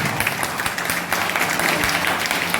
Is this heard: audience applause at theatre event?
yes